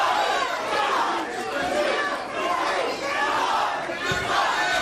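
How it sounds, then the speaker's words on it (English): A wrestling crowd at a PWG DDT4 2009 tag-team match roars and chants in a rhythmic, swelling count as elbow strikes land, loud and continuous with chatter mixed in. "The crowd counting along"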